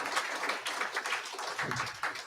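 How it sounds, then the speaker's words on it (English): Audience applause in a church live stream, a dense steady patter of many hands clapping for about two seconds at moderate loudness with no talk over it. "Another round of applause."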